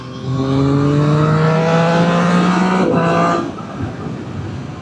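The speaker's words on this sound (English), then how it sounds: "The noise of this bike, for me, I love it. I love the noise it makes." A Triumph Street Triple 765RS motorcycle engine revs hard in a sustained, rising pull for about three seconds, then drops back to a lower steady drone, loud and close with no talking.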